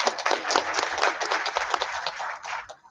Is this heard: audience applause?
yes